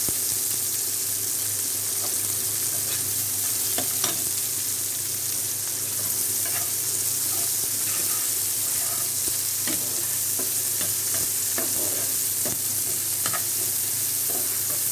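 Onions fry in a pan for bitter gourd bhaji with prawns, producing a constant dense sizzle with frequent scraping taps as the spatula stirs, steady and fairly close throughout.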